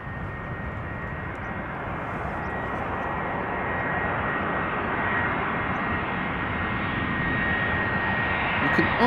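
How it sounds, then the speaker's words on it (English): Boeing 787-10 Dreamliner jet arriving from Panama City at Amsterdam Schiphol Airport, heard up close as a loud, steady broadband engine roar that builds slightly over time, with a faint high whine running through it. "behind it we see a big ass Dreamliner 787-10 arriving from Panama"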